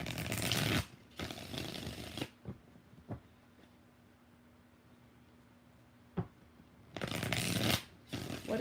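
Tarot cards being shuffled in two loud bursts at the start and end, with a few soft taps and a quiet pause between.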